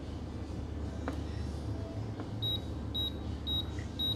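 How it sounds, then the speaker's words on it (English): Water filter system sounding a string of four short, evenly spaced high beeps after a filter reset, clear but quiet against a faint room hum. "press both at the same time for about 3 seconds until I hear the beeping sound"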